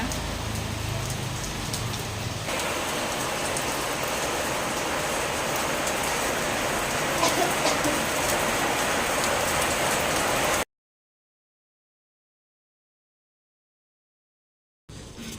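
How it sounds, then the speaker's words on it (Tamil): Heavy rain pours down in a steady, dense roar that fills the scene with no talk, then cuts to silence for several seconds before a brief return at the end. "திடீர்னு பார்த்தீங்கன்னா மழை அப்படியே வெளுத்து வாங்குது. சவுண்டு கூட கேட்குது பாருங்கள்."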